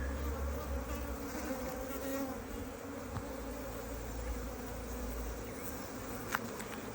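A dense, steady hum of many honeybees buzzing close by in an open hive during inspection, continuous throughout with a faint click or two.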